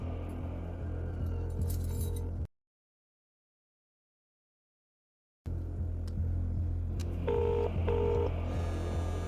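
A phone is dialed in a tense movie scene: quiet key tones and clicks over a low background hum, with a sudden stretch of total silence midway before the tones resume.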